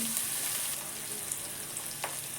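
Onion sizzles in hot oil in a pan while making a fish curry, a quiet steady crackle with a few soft stirring clicks and no talking.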